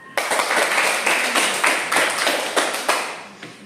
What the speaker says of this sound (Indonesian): Jadi tepuk tangan untuk Abraham dan Kiara.